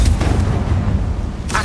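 A Confringo blast spell from Hogwarts Legacy erupts as a loud, booming explosion that rumbles throughout, with a fresh crack of impact near the end.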